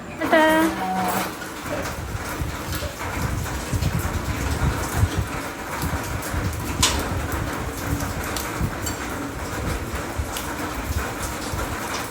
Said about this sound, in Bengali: আর দেখো অঝরে বৃষ্টি নামছে